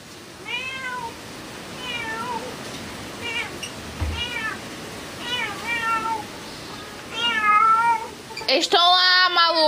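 A cat meows repeatedly, about a dozen drawn-out cries in irregular bursts, close and growing louder toward the end.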